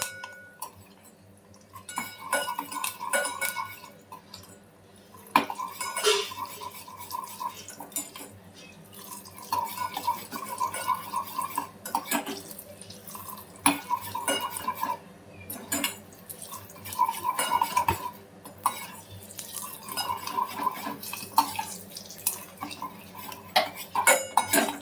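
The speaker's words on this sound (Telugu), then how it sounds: "ఇవన్నీ ఫ్రై అయ్యేంత వరకు ఫ్రై చేసుకోవాలి" Ingredients for ridge gourd chutney are stirred and fried in a pan, with repeated close metal scraping and clinking of a utensil against the pan in irregular bursts over a faint sizzle.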